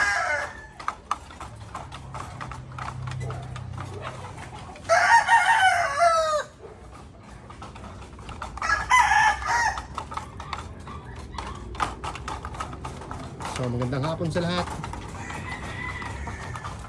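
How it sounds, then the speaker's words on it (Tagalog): Roosters crow loudly twice amid steady clucking of breeder hens at afternoon feeding on a farm with battery cages, and a person speaks briefly near the start. "Afternoon feeding ng mga inahin, ng mga breeders natin."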